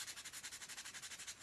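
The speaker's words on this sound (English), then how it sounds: "So all it is just a very light sanding" Quiet, rhythmic back-and-forth rubbing of sandpaper, about a dozen light, even strokes in quick succession.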